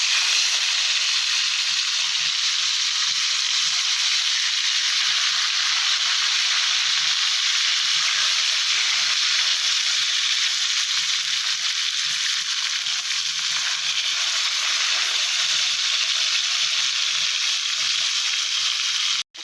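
Bhola fish fry in oil in a pan with a steady, loud bright sizzle that carries on unbroken and without any voice until it cuts off at the very end.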